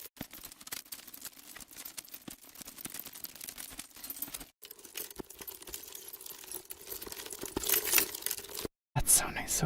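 Pop Rocks candy crackling as a Foley source, a dense scatter of tiny sharp pops and crinkly clicks that rises and falls over several seconds, with a brief gap of silence near the end before it resumes.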